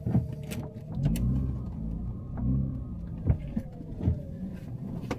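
A Mazda RX-8 with a manual gearbox is heard from inside while driving, a low engine hum that swells and eases as it revs, with a few knocks and clicks over it and no talking.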